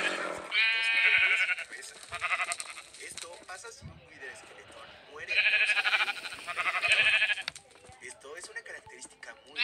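Sheep in a video game bleat in several drawn-out, wavering calls, clustered in two bursts with quieter game sounds and brief gaps between them.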